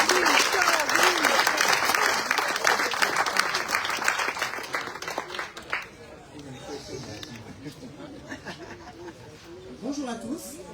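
A French political gathering's audience applauds a newly introduced running mate: loud, dense clapping that thins and fades midway into scattered claps, with murmuring chatter and a voice emerging toward the end.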